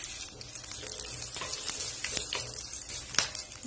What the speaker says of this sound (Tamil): சீரகம் பொரிஞ்சிருச்சு